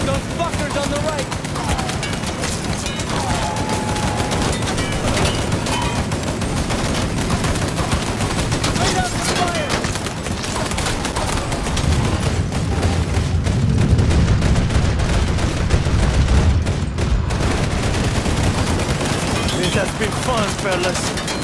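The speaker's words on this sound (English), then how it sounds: "Shoot those fuckers on the right!" Dense, sustained gunfire in the Mafia III video game, a continuous fusillade of shots with booms layered under game voices and effects throughout.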